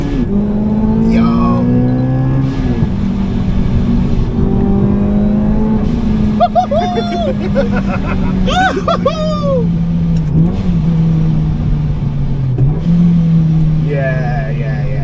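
A supercharged K24-powered Honda Civic FN2 Type R accelerating hard, loud rising engine drone with supercharger whine climbing through gear changes, heard from inside the car with occupants talking and cheering over it.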